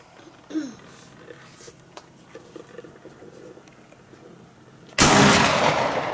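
An 1893 Trapdoor Springfield rifle fired outdoors in wind: a single loud, close report bursts out near the end after quiet ambient noise and faint scattered sounds.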